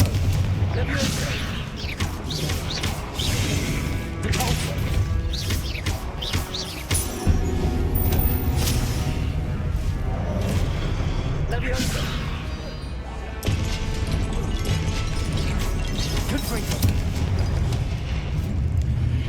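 Confringo blasting spells in the Hogwarts Legacy video game, repeated booming explosions and crashes in a dense, loud battle mix, with a voice shouting over the fight.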